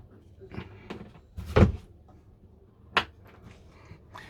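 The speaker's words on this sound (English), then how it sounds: "Close this door" An interior door inside a Hymer BML i890 motorhome swings shut with a clear thud, followed by a second sharper knock a moment later, amid quiet cabin ambience and faint talk.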